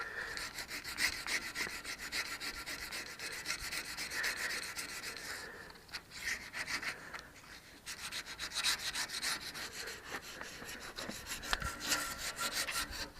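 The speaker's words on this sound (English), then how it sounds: "the aluminum foil is pretty good at removing rust because it's kind of just like sanding it" Steady, rapid scrubbing and rubbing strokes of aluminum foil removing rust from a chrome bumper, a gritty abrasive rasp that runs continuously with a brief pause midway.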